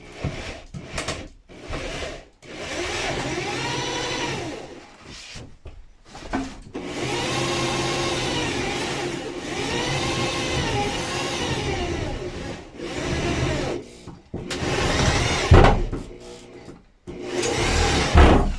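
A power drill drives a self-tapping screw through wood into metal framing in a skoolie bus, giving bursts of whirring motor noise with rising and falling pitch, separated by short pauses and clicks.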